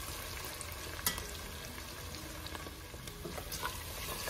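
Tomato paste sizzling and toasting in a pan, a soft, even crackle with a couple of brief utensil clicks, fairly quiet and steady throughout without speech.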